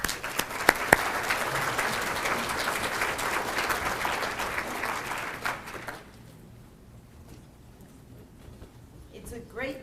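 An audience at a Parkinson's disease research lecture applauds to welcome a speaker, dense clapping for about six seconds that then stops, leaving a quiet room with faint rustling.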